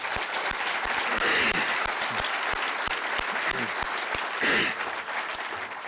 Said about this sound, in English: We could please have a round of applause for our panel.